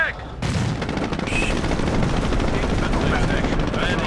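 Battle gunfire in the real-time strategy game Company of Heroes, Operation Market Garden: a dense, continuous wash of rattling small-arms fire and rumbling blasts with no clear pauses, steady at a moderate level.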